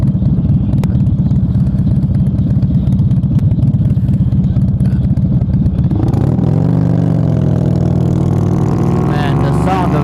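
A motorcycle engine rumbles loudly up close, then revs up with a rising, throaty roar, a voice speaking over it.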